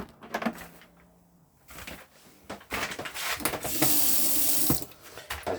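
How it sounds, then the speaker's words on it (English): Water gushes from the hot taps of a 2016 Swift Archway Challenger 480 SE caravan, starting and stopping in sputtering bursts, then splashing steadily and loudly into a sink, with clunks of handling. "We're going to open all them taps up on the hot side."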